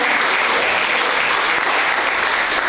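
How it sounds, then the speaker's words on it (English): Sustained applause from a sizable banquet crowd, dense steady clapping throughout with no break. "let's give a big round of applause to all the mentors and support staff"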